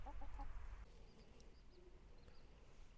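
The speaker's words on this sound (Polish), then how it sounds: "tutaj kwoczka jest zamknięta" A broody hen shut in her enclosure in the evening gives a quick run of low, soft clucks nearby, then falls quiet against a faint background hum.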